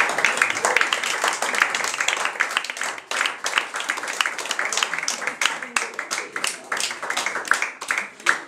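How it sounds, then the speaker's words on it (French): An audience at a small song gathering claps for a singer, a brisk crowd applause with sharp individual claps and some voices mixed in throughout. "On l'applaudit parce que c'est sa première."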